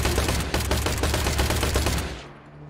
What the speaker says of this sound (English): They're shooting each other!